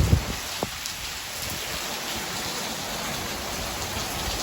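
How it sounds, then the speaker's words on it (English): Heavy tropical storm rain from Tropical Storm Alberto in Rockport, Texas, pours steadily from downspouts as a dense, continuous hiss with a brief splash at the start, close and unbroken, no voices. "Pouring pretty hard out of these downspouts."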